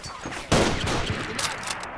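A sudden burst of rapid gunfire erupts in a 1924 Honduras battle video game, loud crackling shots following a short quieter lead-in.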